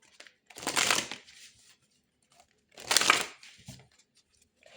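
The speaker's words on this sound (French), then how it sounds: "Allons tirer d'autres cartes pour vous." Tarot cards are shuffled in two quick bursts of riffling and sliding, each about half a second long, close and clear with quiet pauses around them.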